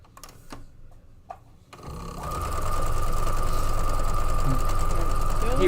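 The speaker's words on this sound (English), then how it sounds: "I'm going to go ahead and sew up one side" A sewing machine stitches a fabric seam, starting after a brief pause and settling into a steady, fast, loud mechanical whir that runs on without a break.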